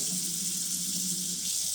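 Water runs steadily from a kitchen sink faucet in a newer home, giving a continuous, even hiss at moderate level with no break and no voices.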